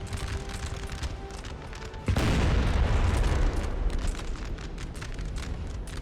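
In Napoleon Total War, an 8-pounder artillery cannon fires over steady battlefield noise: a sudden loud booming blast lands partway through and leaves a sustained rolling rumble.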